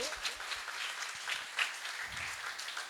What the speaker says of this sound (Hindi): एक बार जेलर साहब के सम्मान में जोरदार ताली।